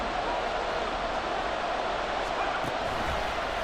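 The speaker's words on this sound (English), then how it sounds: "the crowd getting into it as we come up on a big third down" A steady, dense roar from a stadium crowd in a football video game, built up before a big third down, holding at an even level throughout without a break.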